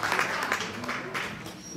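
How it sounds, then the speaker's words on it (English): Audience applause fills a hall at a tribute weekend concert in Luxembourg: a steady, dense wash of clapping from a crowd that holds at an even level for the whole stretch, with a little crowd noise mixed in. "Give him a big round of applause, ladies and gentlemen."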